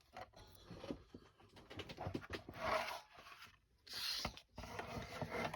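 Scissors cutting through a paper master board for junk journals, heard as quiet crisp snips and rustling paper in a few short bursts, close by with no talking.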